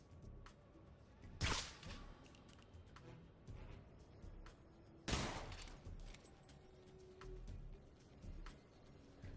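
Suppressed gunfire in the stealth video game Metal Gear Solid Delta: two sharp muffled shots about three and a half seconds apart, standing out over a low, busy game ambience with faint clicks.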